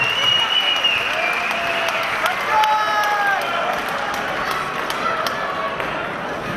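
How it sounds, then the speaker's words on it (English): Crowd applause at a boxing event after the fight, loud and sustained with cheering voices mixed in and a few whistles rising above the clapping. "A big round of applause for Tass Tsitsiras."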